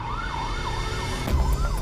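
An ambulance siren wails steadily in a repeating rising-and-falling pattern, loud and close, with a low rumble beneath it.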